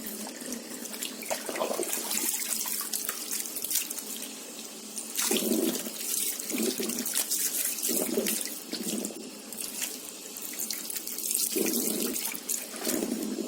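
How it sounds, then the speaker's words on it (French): Water runs steadily from a sink tap while hair is rinsed during a tannin hair-straightening treatment, a continuous close splashing flow with brief surges as the stream hits the hair. "Il faut bien rincer aussi"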